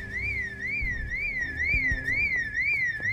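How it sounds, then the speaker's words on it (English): A wailing electronic alarm cycles up and down steadily throughout an in-game survival scene, loud and continuous over low rumbling game background sounds. "Ah, and another alarm went off over here."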